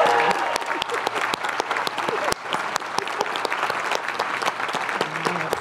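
Commencement crowd applauding award-winning architecture school students at a graduation ceremony, steady dense clapping with sharp individual claps standing out, loud and continuous throughout.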